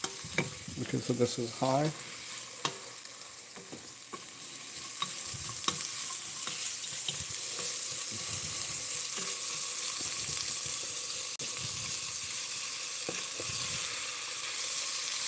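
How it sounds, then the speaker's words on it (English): Food sizzling and frying in a pan over high heat while being stirred with a wooden spoon, a steady hiss with soft scraping and stirring sounds; a person speaks briefly near the start. "So you can hear the sizzle."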